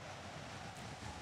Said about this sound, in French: Quel sale vent!